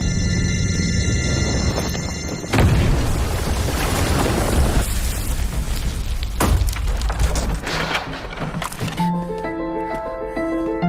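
A sudden heavy bomb explosion booms out and rolls into a long, rumbling crackle of debris, with another impact later, before music takes over.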